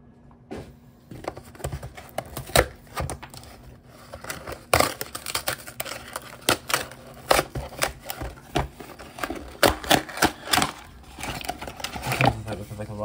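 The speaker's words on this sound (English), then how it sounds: "let's get this guy open and out of the packaging" Plastic packaging of a Transformers One Studios Series Sentinel Prime action figure being opened, with a string of sharp snips, clicks and crinkles coming close and irregular, some strong, over faint background hum.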